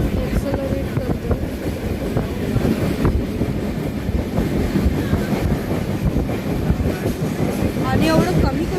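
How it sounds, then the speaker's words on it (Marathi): A Janshatabdi Express train picks up speed, its steady rolling rumble and rhythmic clatter of wheels on rails filling the carriage continuously, with a voice talking over it. "मित्रांनो आपली जनशताब्दी आपली स्पीड वाढवत आहे."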